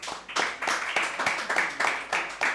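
Hands clap in bursts at a school quiz competition as marks are announced, a loud, fairly steady patter of applause from a nearby audience that rises and falls in quick waves.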